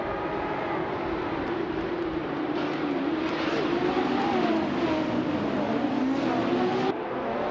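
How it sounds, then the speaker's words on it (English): Race cars including a 1970 Ferrari 512S Codalunga roar off the line at the start of a video game race on the Cadegua Chicana B track, a steady dense engine drone with rising and shifting whine throughout. "the race has just kicked off at the Cadegua Chicana B track"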